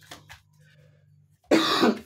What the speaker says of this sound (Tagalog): Inuubo pa rin po ako.